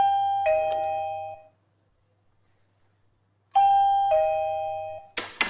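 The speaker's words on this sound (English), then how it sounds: "here has a doorbell ring" Two identical chimes from the doorbell on a Tenon smart door lock, each a clear electronic ding-dong with a low hum, separated by a few seconds of silence, then a brief rustling clatter at the end.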